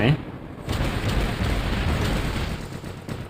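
Explosion in the War Robots mech combat game, a sharp burst at the start followed by a sustained rumbling roar that fills the clip, loud and dense.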